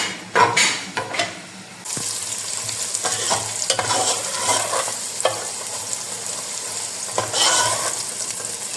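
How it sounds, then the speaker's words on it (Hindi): Sliced onions frying in oil while being stirred, a continuous loud sizzle broken by spatula scrapes and knocks against the pan, close up and without speech. "5 से 7 मिनट तक आप प्याज को चलाते जाएंगे।"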